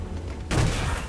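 Deathstroke fires his gun during a Batman Arkham Origins fight, a single loud burst of gunfire that cuts in sharply and rumbles on, with no voice over it.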